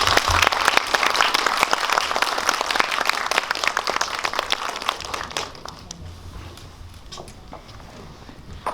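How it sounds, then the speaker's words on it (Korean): An audience at a film screening talk event claps loudly to welcome guests, a dense burst of applause that thins out to scattered claps after about five seconds. "큰 박수로 맞이해주세요."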